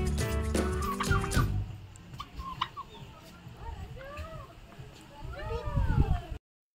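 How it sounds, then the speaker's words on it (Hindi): A flock of turkeys gobbles at a resort near Kanakpura Road, Bangalore, with repeated warbling calls at mid distance. A voice talks briefly at the start, and the gobbling swells again near the end. "यहाँ पर हमने देखा टर्की बर्ड, यहाँ पर काफी सारे टर्की बर्ड्स हैं"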